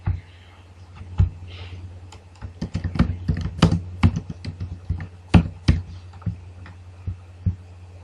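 Irregular clicks of a computer keyboard as comments are typed into a PDF annotation tool, close and fairly crisp, with bursts of quick keystrokes and short pauses between them.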